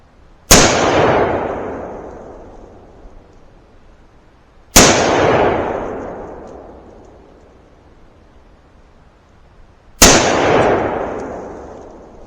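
Three loud, sharp shots from a .223 Remington Ruger rifle, spaced about five seconds apart, each with a long echoing decay outdoors and no voices.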